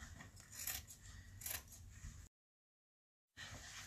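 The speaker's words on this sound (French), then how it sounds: "Et je coupe. Tac, tac, tac. Je coupe en deux." Fabric scissors snipping through cloth for a child's kitchen apron, several crisp cuts in a quick rhythm, then a second of silence before cutting resumes, close and clear with no talking.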